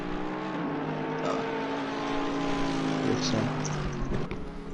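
A naturally aspirated 6.3 litre V8 race car in a video game holds a steady, loud droning engine note with rich harmonics, rising slightly in pitch as it runs.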